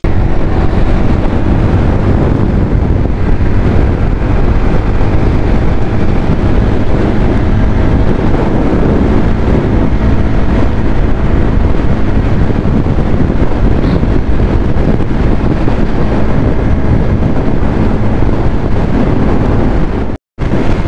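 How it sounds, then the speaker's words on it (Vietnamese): Strong wind buffets the microphone while riding a motorbike on the road from Nha Trang toward Phan Thiet, a loud, steady roar of gusting air throughout, cutting out briefly near the end. "gió rất là lớn cho nên chạy không có nổi"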